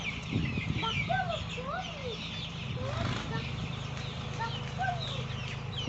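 Chicks and ducklings in a village setting chirp together in repeated thin, rising and falling peeps, close by over a low rumbling background with faint voices.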